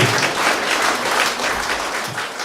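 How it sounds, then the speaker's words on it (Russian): An audience claps after a song at a music performance, a steady wash of applause with rhythmic swells, moderately loud and free of talk. "Ваши горячие аплодисменты."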